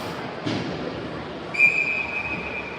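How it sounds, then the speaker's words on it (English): A referee's whistle sounds at a youth ice hockey game, a single sustained shrill blast heard after a dull thud over the arena's background noise. "Refs blow the whistle, say let's get it going."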